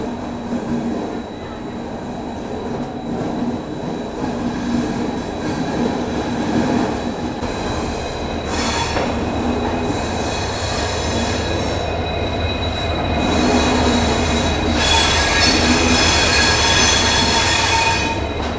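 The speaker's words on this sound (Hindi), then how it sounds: "बिल्कुल ऑन टाइम हो चुका है इस ट्रेन का डिपार्चर मैसूर जंक्शन के प्लेटफॉर्म नंबर 5 से।" Swarna Jayanti Express train departing Mysore Junction from platform 5, a steady loud rumble of railcars with squealing wheels and rail clatter rising toward the end.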